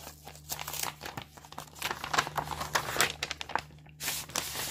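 Paper A4 pages slid out of an envelope, giving close, continuous crinkling, rustling and rubbing in uneven bursts, fairly loud, with no talking.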